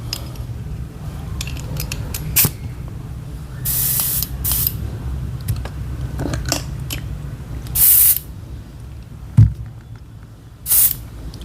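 An airbrush sprays paint in short bursts onto a Tamiya 1/48 Spitfire Mk Vb scale model, several sharp hissing puffs near the microphone separated by pauses with small handling clicks and clinks.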